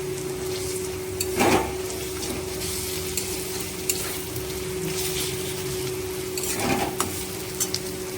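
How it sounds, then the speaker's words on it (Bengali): Garlic paste added to onions already fried red in oil, a steady soft sizzle with a few stirring scrapes and spoon clatters, close by, over a constant low hum. "তো আমার পেঁয়াজটা লাল লাল করে ভাজা হয়ে গেছে। এখন আমি দিয়ে দেব রসুন বাটা।"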